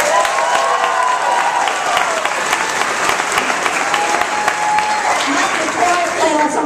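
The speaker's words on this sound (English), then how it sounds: "let's give a round of applause applause to those amazing theater managers" An audience claps continuously in a theater, a dense, even patter of many hands held at steady loudness throughout, with a voice speaking over it.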